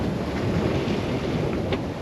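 Steady rushing wind and surging sea noise fill the whole stretch, broad and continuous with no voices.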